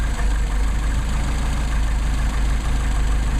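A Mercedes 190SL engine fitted with Solex 44PHH carburetors idles steadily and close by, a continuous low rumble with even pulsing and no talk over it.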